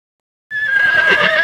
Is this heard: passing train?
no